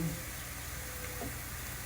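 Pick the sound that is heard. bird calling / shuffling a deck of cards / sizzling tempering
sizzling tempering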